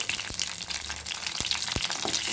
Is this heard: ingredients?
yes